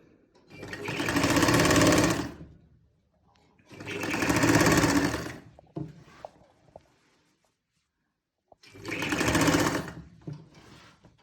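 A sewing machine stitches a kameez neckline in three separate bursts of rapid, whirring clatter, each lasting a couple of seconds, with quiet pauses and faint handling noises between them.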